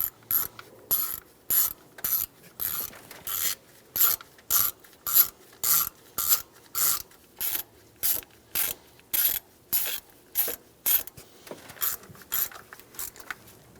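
A ratchet tightens fuel rail bolts on a 2003-2008 Honda Pilot engine, a steady run of about twenty short clicking bursts, close and crisp, with no one speaking.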